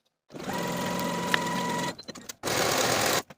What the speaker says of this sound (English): Sew both side seams with a 1/2 inch seam allowance and finish your seams.